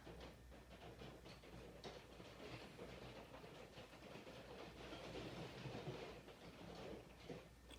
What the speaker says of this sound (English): It is rain on the roof of my studio.